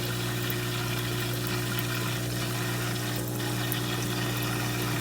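A small aquarium water pump runs steadily in a newt paludarium build, a constant close-up hum with a faint watery trickle and no talk over it.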